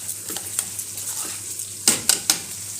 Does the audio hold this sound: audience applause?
no